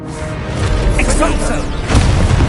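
A Confringo fire spell bursts out in Hogwarts Legacy, a heavy booming blast with crackling debris, played loud and close and followed by a second impact surge, with a voice talking over the action.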